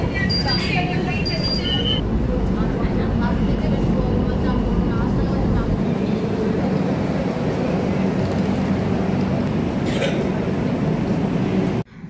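A metro train pulls into a station platform with a loud, continuous roar and rumble, a brief high squeal near the start, and steady noise until it cuts off at the very end.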